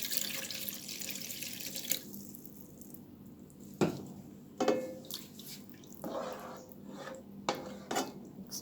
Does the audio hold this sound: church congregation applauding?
no